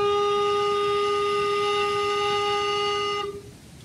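A recorder blown with slight lip tension and higher air pressure sustains a single bright, steady note rich in overtones for just over three seconds before cutting off into quiet room noise.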